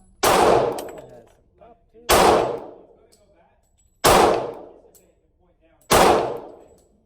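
Four loud, sharp pistol shots from a Smith & Wesson M&P Shield 45 ACP ring out at a shooting range, about two seconds apart, each with a ringing decay and no talk over them.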